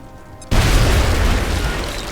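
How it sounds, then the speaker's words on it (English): A grenade goes off in the XCOM: War Within strategy game, blowing open a wall: after a quiet half second, one loud, close booming blast with a long rumbling tail that fades slowly. "I'm going to throw a grenade right there. And hopefully it'll blow up the wall."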